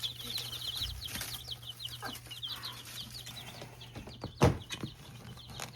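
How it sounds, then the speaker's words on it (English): Chickens cluck and chatter in a steady, fairly close stream, broken by a sharp wing-flapping flurry partway through, with a low constant hum beneath. "Look at that little chicken."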